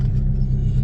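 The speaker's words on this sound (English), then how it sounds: "We're in the 98 Lotus Esprit V8 twin turbo" Modified 1998 Lotus Esprit V8 twin turbo engine rumbling low and steady from inside the car, a close, even drone with no speech over it.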